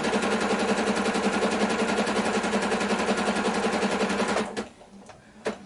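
A hand-cranked sewing machine stitches a buttonhole in a quilted jacket, its needle hammering in a fast, steady, loud rhythm for several seconds before it stops, followed by a few faint clicks.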